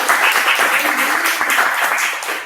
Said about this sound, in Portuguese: vamos pedir uma salva de palmas